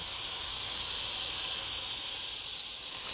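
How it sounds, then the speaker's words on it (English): Steady sizzling hiss of garlic sautéing in a hot pan, a continuous even fry with no breaks and no talking. "Saute this for a few minutes, actually just 2 minutes."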